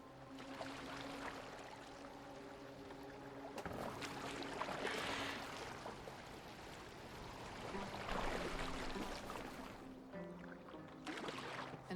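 Water sloshes and laps against a moving boat in Assassin's Creed Valhalla, a soft rushing flow rising and falling in waves with faint tonal hums beneath and no speech.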